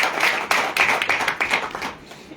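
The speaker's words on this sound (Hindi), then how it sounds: "जोरदार तालियां सर के लिए" A business plan meeting audience gives a short burst of loud, close clapping for a presenter, fairly rhythmic and fading out after about two seconds.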